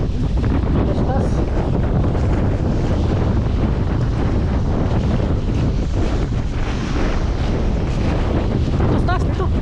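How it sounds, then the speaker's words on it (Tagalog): Strong wind roars across the microphone aboard a fishing boat at sea in heavy wind and waves, a loud continuous buffeting with water wash beneath, and voices talk faintly now and then. "Saka naman lumakas yung ano? Hangin o."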